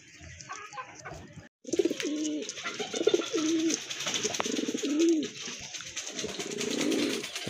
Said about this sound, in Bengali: অসাধারণ এক জোড়া কবুতর, এটা কিন্তু চুইনা কবুতর